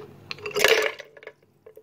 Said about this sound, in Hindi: नाल असीं बर्फ डाल देंगे।